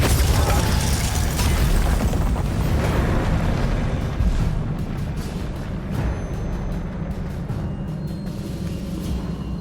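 The Depulso force-push spell from Hogwarts Legacy on Nintendo Switch lands as a loud rumbling blast that decays into a lower, steady roar with scattered crackles.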